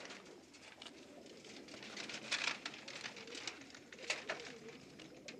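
Pet pigeons or doves coo softly indoors, a faint, low murmuring over a quiet hiss, with a couple of brief brighter chirps standing out.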